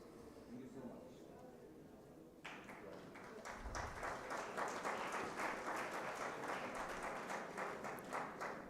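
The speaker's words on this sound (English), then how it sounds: "A huge round of applause for our guest." Applause from a crowd at a valedictory ceremony swells in after a quiet start and continues steadily, a dense wash of many hands clapping with some voices underneath.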